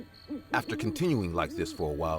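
Owls hooting in a night forest, repeated rising and falling calls mixed under someone narrating throughout.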